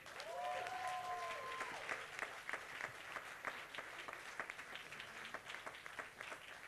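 Audience applause at a film Q&A panel as cast members come down to join, steady sustained clapping from a crowd filling the room, with some voices mixed in.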